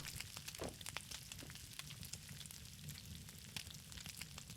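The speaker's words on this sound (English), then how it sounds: "Hear it start to sizzle." Meat sizzles softly on the ground over a fire in the survival game SCUM, a faint, steady crackling fry with scattered small pops and no voices.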